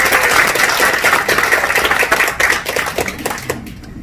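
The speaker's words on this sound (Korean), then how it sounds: "박수로 환영해 주십니다." Applause from an audience at a political party founding rally welcoming a speaker, loud close clapping with sharp individual claps that thins out and drops away in the final half second.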